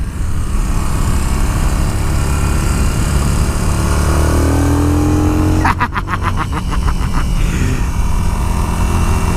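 A Yamaha XV950 Racer motorcycle takes a bend at speed. Heavy wind roar and a low engine drone fill the ride, with a rising whine and then a short burst of rattling scrape midway through.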